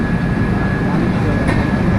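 Heavy, loud low rumble with a steady high whine from the 12377 Padatik Express rolling on rails toward Bardhaman, continuous and close as if heard from onboard.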